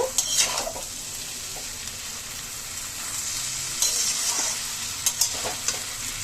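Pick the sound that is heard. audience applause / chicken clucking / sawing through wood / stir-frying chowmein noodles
stir-frying chowmein noodles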